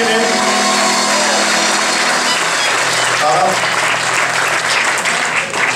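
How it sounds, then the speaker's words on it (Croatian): Loud, continuous audience applause at the MICROFON 2018 event in Petrovo Selo, a thick roar of clapping that holds steady throughout, with voices faintly mixed in. "jedan veliki aplauz za Rajmunda"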